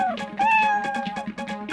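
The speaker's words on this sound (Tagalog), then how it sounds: "Nawawala po kasi ang pusa kong si Ningning." A brown cat with pointed ears meows several times in quick succession, clear and close, with wavering tonal cries over a low steady hum and no talking.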